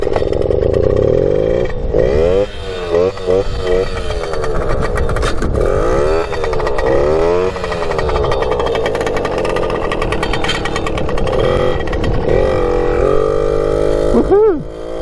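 A Suzuki JR50 mini motorcycle engine starts and revs hard, its small buzzing two-stroke note rising and falling in repeated throttle blips, loud and close, with a voice briefly heard.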